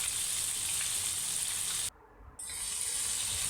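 Chicken frying in a pan at low flame gives a steady, close hiss and sizzle of hot oil, briefly dipping quieter for a moment before the frying noise resumes.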